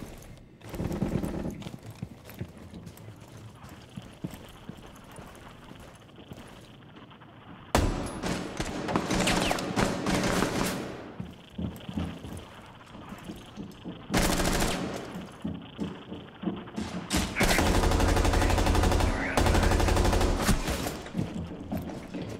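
Suppressed pistol and automatic gunfire in a Rainbow Six Siege match, with bursts of loud rapid shots around the middle and a long sustained volley near the end, and quieter footsteps and movement in between.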